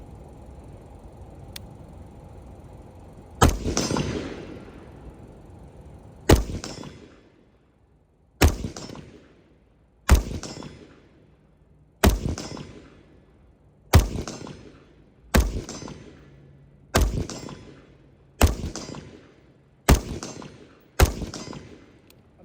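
An AR rifle with retro carry-handle iron sights fires a slow string of about a dozen sharp, loud shots, each trailing off in an outdoor echo before the next, spaced a couple of seconds apart.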